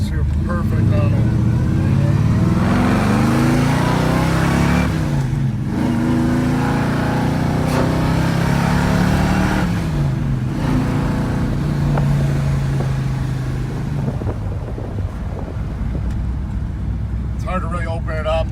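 A 1979 Chevrolet C-10 short-box custom pickup with a built, fuel-injected 454 V8 and a four-speed runs loud and close, its low engine drone rising and falling in pitch, with brief dips that suggest gear shifts.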